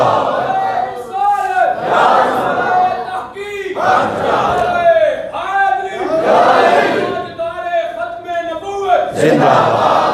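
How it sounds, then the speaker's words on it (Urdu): A large crowd at a religious gathering chants slogans in loud, rhythmic call-and-response bursts, voices swelling together every couple of seconds. "علی دا بھی نعرہ لانے ہیں صحابہ دا بھی نعرے لانے ہیں"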